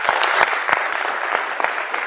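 Audience applause at a democracy and human rights festival, a brief burst of dense clapping from a crowd, loud and close with a few sharper individual claps standing out.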